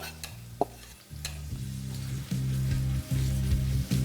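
Sliced onions fry in ghee while being stirred for Hyderabadi chicken masala, a soft sizzle with a few clinks and scrapes, under a steady low humming drone, close and fairly quiet, no speech.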